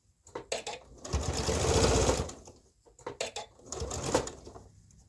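Close sewing machine stitching a jacket, running in quick bursts of whirring, rattling needle strokes separated by brief stops and small handling clicks.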